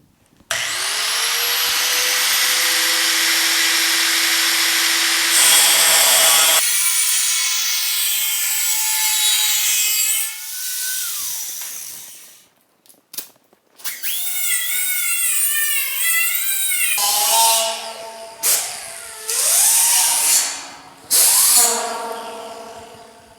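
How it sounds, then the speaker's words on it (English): An angle grinder grinds down TIG welds on a filler panel in the rusted rear window channel of a GM A-body car, a loud close whine in long passes with pitch swings and short pauses. "I'm gonna go ahead and grind the tops off this, hammer it a little bit, and then grind it smooth"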